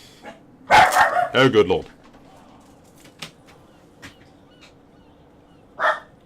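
Dogs bark in the game Rome 2: Total War, with a cluster of sharp barks early on and another short bark near the end, separated by quieter clicks, and someone talks briefly.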